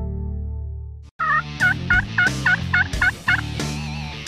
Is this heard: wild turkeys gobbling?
yes